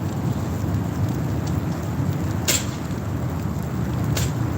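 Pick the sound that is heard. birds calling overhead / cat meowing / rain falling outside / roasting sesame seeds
rain falling outside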